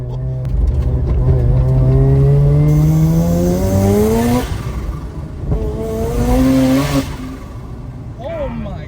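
A rotary-engined Subaru BRZ accelerates hard with a loud, rising engine wail that climbs through the gears, with two shifts and a brief squeal near the end, while excited voices shout over it from inside the car.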